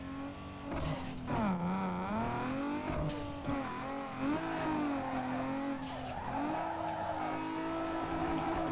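Drifting car in Need for Speed Underground 2: a revving engine rising and falling with sustained tire squeal through the slides, loud and continuous, alone without talk.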